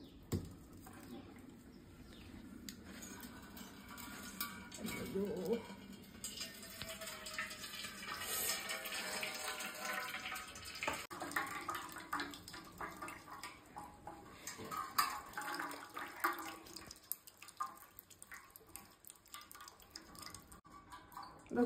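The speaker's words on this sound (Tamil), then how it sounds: "தண்ணி வடிச்சாச்சு." Washed spinach draining in a kitchen, with a steady trickle and drip of water running off the leaves, sometimes louder and sometimes faint, alongside a few light clinks from a vessel.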